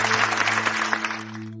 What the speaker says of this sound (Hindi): पूरा मैदान तालियों की गूंज से भर गया